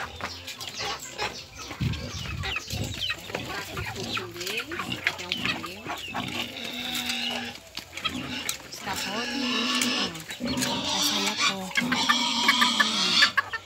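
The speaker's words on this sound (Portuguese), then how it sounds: "Isso é os galinha, galinha garnizé e os capotes." Bantam chickens and guinea fowl cluck and call on a farm at feeding time, a busy mix of overlapping bird calls close by, with voices talking throughout.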